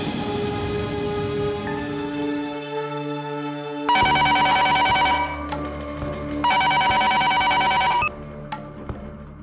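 A telephone rings after a call is placed, with a dial tone followed by two loud, even bursts of electronic ringing separated by a pause, close and with no voices.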